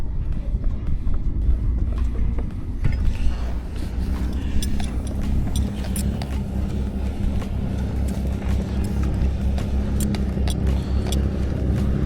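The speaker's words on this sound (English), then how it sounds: "engine on, and get ourselves off this mooring buoy" A sailboat's engine runs steadily while the boat is readied to leave a mooring buoy off Plymouth, a continuous low rumble with loud, even chugging and occasional knocks and clatter on top.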